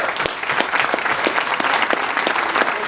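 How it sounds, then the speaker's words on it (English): An audience claps in a thick, lively round of applause for a panel. Many hands beat fast and steadily for a few seconds, and faint crowd noise sits underneath. "Let's give these guys a round of applause."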